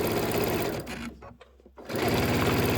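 A sewing machine stitches quilt table topper pieces, running loud and steady up close, stopping briefly in the middle, then picking up again at full speed.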